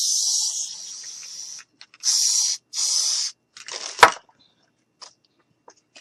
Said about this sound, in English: we're going to take this adhesive and we're just going to spray.